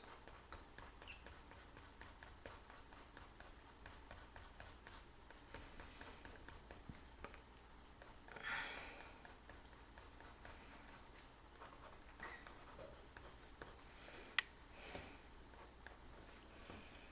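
Colored pencils scratch softly across paper during a cheetah-eye drawing, a faint, steady scribbling texture with a few brief taps, close and quiet.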